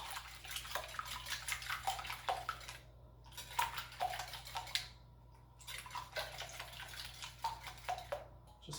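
Eggs whisked in a bowl, about five eggs with a wire whisk in a home kitchen, giving rapid, continuous clinking and sloshing strokes with brief pauses, close and moderately loud, with no talking.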